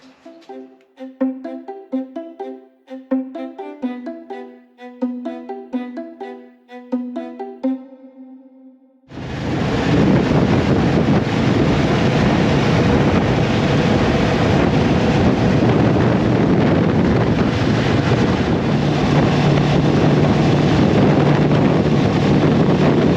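Wind noise while riding a Moto Guzzi V85TT motorcycle: after some tonal plucked music, a loud, steady wind roar buffets the microphone continuously at speed.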